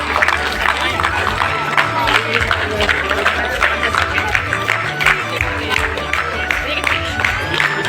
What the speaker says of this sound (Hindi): आप एक बार तालियों की गड़गड़ाहट से मैम का सम्मान करें।